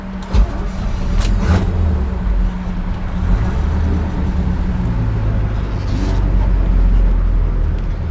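A 1986 GMC Square Body truck with a 4-speed manual pulls away in second gear, its low engine drone rising and shifting in pitch as it accelerates, heard from inside the cab over a steady road rumble.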